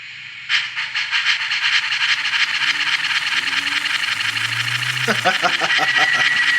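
A restored PRR decapod model steam locomotive's sound system gives off rhythmic chuffing with a hissing steam texture, steady and close, followed near the end by a low squeal and quick repeated puffs.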